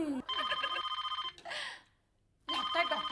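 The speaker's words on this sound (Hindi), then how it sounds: "लगता है डॉक्टर साहब का फोन होगा" A telephone bell rings in repeated electronic bursts in a home kitchen, loud and close, with a break of near silence before ringing resumes, and a voice faintly overlapping at the start.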